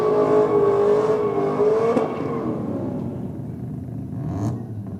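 Stuart Bennett's twin-turbo drag car revs hard at a race night, its loud rising engine note holding, then dropping off and easing into a lower rumble with a brief whir near the end.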